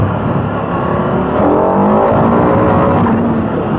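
KTM 1290 Super Adventure S motorcycle, a 2021 model, engine droning steadily with a rising harmonic whine as it accelerates past, loud and continuous with wind noise, no talking.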